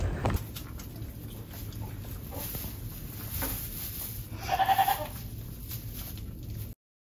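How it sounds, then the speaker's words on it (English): Goats on a farm, one of them giving birth, bleat over faint outdoor background noise, with a clearer cluster of calls near the middle of the clip. "I just ran outside to check on some goats, see how they were doing."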